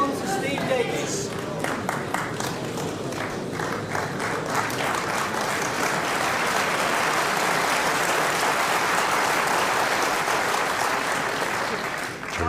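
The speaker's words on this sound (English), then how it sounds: "Terrific round of applause then for Steve." Sustained audience applause for Steve Davis at a 1984 Crucible snooker match against Jimmy White, a dense, steady wash of many hands clapping that holds evenly for the whole stretch before tailing off at the end, with a commentator's voice faintly underneath near the start.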